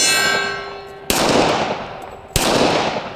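A Springfield Armory Garrison 1911 pistol fires two sharp, loud shots about a second apart, each ringing out in a decaying tail.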